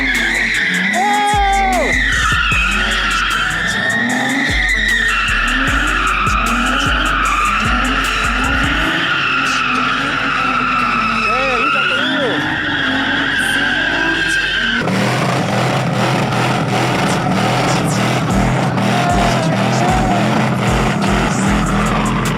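A drifting car at a street car meet skids with a sustained, loud tire squeal and a revving engine close by. The screech runs continuously for over twenty seconds as people talk in the background.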